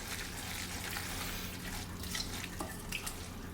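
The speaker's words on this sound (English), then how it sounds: "you just keep stirring around until the cheese is blended in nicely" Kraft Dinner macaroni and cheese is stirred in a pot, giving a close, continuous wet squelching and sloshing with small clicks of the spoon against the metal.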